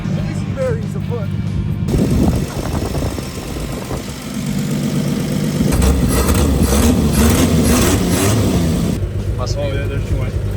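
A 1954 Chevrolet engine sitting unused for two decades cranks and catches, then runs rough and loud with throttle surges, an uneven idle settling under it; voices talk nearby at points.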